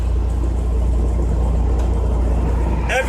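A truck engine drones steadily as it crawls along the road at about 26 to 28 mph, with a constant low rumble filling the whole stretch.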